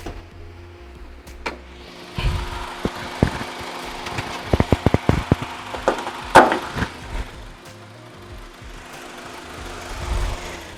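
A 1500 cc Honda HR-V engine idles with a low, steady hum under an open bonnet, broken by scattered clicks, taps and a quick run of sharp knocks nearby.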